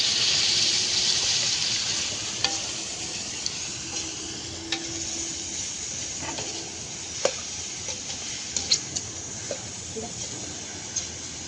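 Oil sizzles steadily under cabbage and mixed vegetables being stirred for pulao over a wood-fired stove, with sparse close spoon clicks and scrapes that grow more frequent toward the end.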